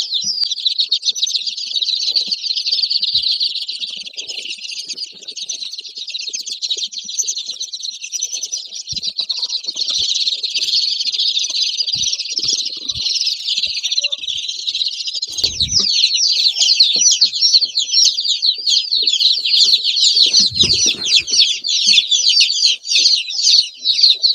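Many young chicks in a delivery box, including fluffy, feather-footed salmon Faverolles, keep up a dense, constant high peeping close by, with a few soft knocks and handling sounds under it.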